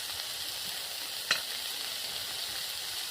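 Eggplant frying in oil in a village kitchen, a soft, even sizzle with one brief clink partway through and no speech.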